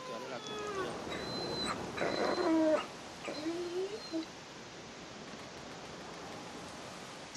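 A dog in The Walking Dead video game, Season 2 Episode 1 'All That Remains', gives a few faint whimpering cries among quiet game sounds, with a voice speaking briefly.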